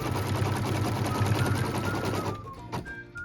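A sewing machine runs in a fast, steady mechanical buzz while stitching a cut line through four layers of quilting fabric, then stops abruptly and leaves a few small clicks.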